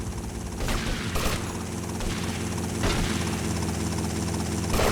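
A helicopter in GTA Vice City, a steady loud rotor chop and engine drone throughout, broken by several sharp bursts that sound like gunfire.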